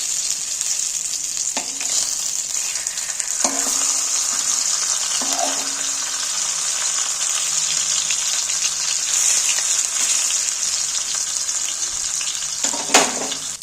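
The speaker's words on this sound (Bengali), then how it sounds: "এই অল্প তেলেতেই দুটো মাছ দুরকম দুবার ধরে ভাজলো" Rohu fish sizzles loudly in a little oil with a constant bright hiss, broken by a few short clanks of a utensil against the pan.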